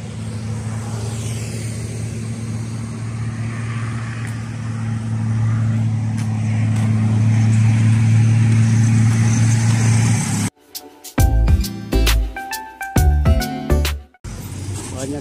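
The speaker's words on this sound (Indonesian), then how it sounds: "Kita bisa melihat mobil yang melintas di jalan tol." Cars pass along the Reformasi toll road in Makassar below an overpass, a broad steady traffic rumble with swelling whooshes as vehicles go by, heard from a distance before the scene cuts away.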